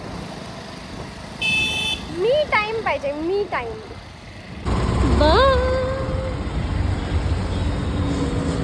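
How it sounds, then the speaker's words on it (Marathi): Busy road traffic with car horns and idling engines: a steady engine rumble runs throughout, a sustained horn sounds early, and a louder burst of traffic noise follows midway. Someone talks over it. "यार इथे ट्रॅफिक केवढी आहे"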